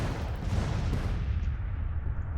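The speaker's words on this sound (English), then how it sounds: "My artillery is engaging." Artillery fire in the Civil War strategy game Grand Tactician: a dense rumble of overlapping cannon booms with heavy low-end weight, fairly loud and continuous, then trailing off as the sharp top fades.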